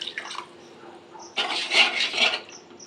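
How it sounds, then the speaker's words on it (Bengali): Water poured into a pan of turmeric and salt for a pabda fish mustard-poppy seed curry, a sudden splashing rush that starts partway through and continues unevenly, following quieter faint clinks and rubbing, close by with no speech. "পরিমাণ মতন জল দিয়ে দিলাম"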